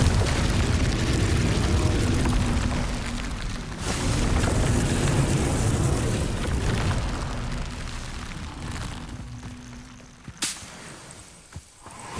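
Confringo explosion spell in the video game Hogwarts Legacy, a loud booming blast with a rumbling tail that fades out, followed by a few sharp pops.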